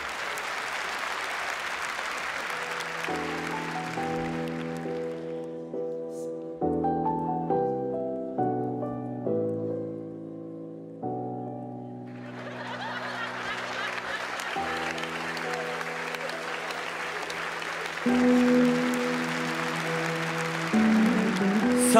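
A television studio audience bursts into loud applause, which fades as music plays, then swells again and continues under the music to the end.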